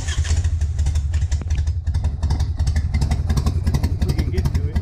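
Harley-Davidson Sportster motorcycle engine running steadily after an idle screw adjustment, a loud, close, continuous low rumble with rhythmic clattering pulses throughout.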